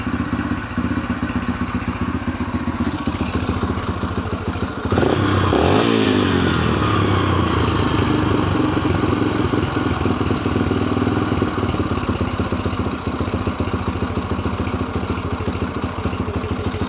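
A Yamaha TT-R 125 motorcycle engine with a freshly rebuilt carburetor idles steadily and close by, with a brief rise in pitch and loudness around a third of the way through before settling back into an even, putting idle.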